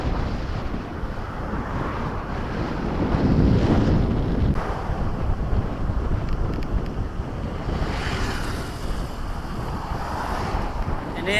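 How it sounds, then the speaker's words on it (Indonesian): Strong wind buffets the microphone on a mountain road descending Gunung Gerute between Jantho and Lamno, a steady loud roaring rush with gusts swelling around the middle, no voices. "Anginnya Cuk."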